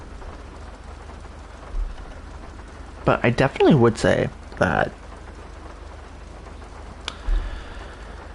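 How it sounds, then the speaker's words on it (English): Steady rainfall in the video game GTA, a soft continuous hiss running under the whole stretch, with someone talking over it in the middle. "That was really unfortunately timed rain."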